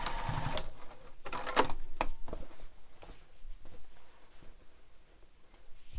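A sewing machine stitches a messenger bag seam in quick, close rattling bursts at the start, then settles into quieter, intermittent ticking.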